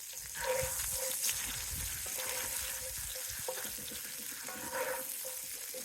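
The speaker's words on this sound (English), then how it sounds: "go in with a knob of butter and also our onions" Butter and onions sizzling in a pan with frying potatoes, a soft, steady crackle with faint stirring and scraping, moderately quiet and close, no voices.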